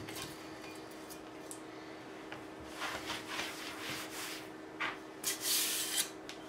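Quiet steady rubbing of abrasive on wood while sanding a home-made guitar fret leveling beam flat, a soft continuous scratchy hiss with a few brighter strokes toward the end.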